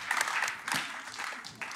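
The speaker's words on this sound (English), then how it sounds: "Round of applause for them." Studio audience applause for contestants on a Nigerian quiz game show after they walk away with 1 million naira, a short burst of clapping that dips midway and swells again.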